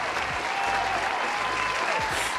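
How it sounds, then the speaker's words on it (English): Steady, dense applause from an audience fills the whole stretch, even and continuous without pause, with a faint voice briefly underneath. "can we get a round of applause for 2022?"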